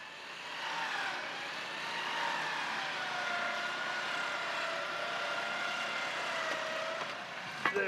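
A vehicle engine revs steadily as it drives out of a bog in the bush, a sustained droning whine that holds at moderate distance for several seconds with slight pitch shifts and no voices.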